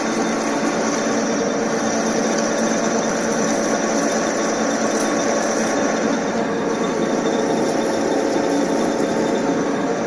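An IZh 250P metal lathe cuts steel round stock at 300 rpm, producing a loud, steady machining whir with a constant high whine that holds evenly throughout.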